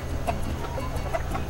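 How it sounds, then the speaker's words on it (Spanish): Gen Piroco hens in a laying flock of about 35 to 40 birds cluck in short repeated bursts, moderately close, over a low background hum. "Tenemos un plantel aproximadamente entre 35 a 40 gallinas"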